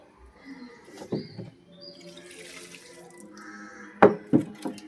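Water pours and splashes out of a fish tank during cleaning, with a few sharp splashes near the end and faint bird calls in the background.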